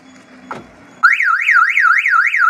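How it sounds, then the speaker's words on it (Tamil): A loud electronic motorbike anti-theft alarm starts abruptly and wails in a fast, rising-and-falling warble, repeating steadily up close after a brief click. "ரிவர்ஸ் கீல்குள்ளே அலாரம் அடிச்சிடும் பாருங்கள்."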